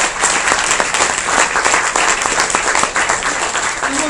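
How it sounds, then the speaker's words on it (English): Loud, close applause from an audience at a UX professionals' event in a room, dense clapping holding steady without voices on top. "A big round of applause."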